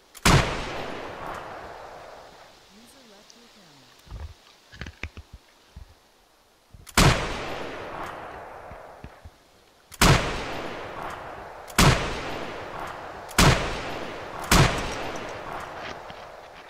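Gunfire in the military shooter Arma 3: a loud close rifle shot, then after a pause a rapid series of sharp reports with decaying tails, fired in irregular bursts.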